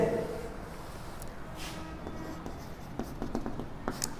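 Chalk or marker writing examples on a classroom board, a run of short scratchy strokes and taps growing busier toward the end, with a teacher's voice speaking over parts of it.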